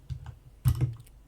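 A few quiet keystrokes on a computer keyboard while writing Ren'Py code, with a soft tap early on and then a short louder cluster of clicks, with no voice.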